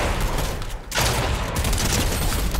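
Video game gunfire rattles in a dense, loud, continuous barrage, breaking off for a split second before the volley resumes just as hard.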